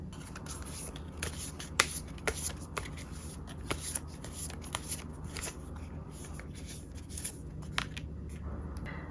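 Tarot cards being shuffled and drawn by hand, a steady run of close, crisp riffling and flicking with sharp snaps scattered throughout, heard alone without talk.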